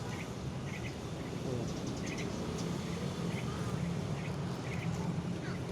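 Repeated short bird calls, quacking bursts in a loose rhythm, heard fairly faintly over a low background rumble.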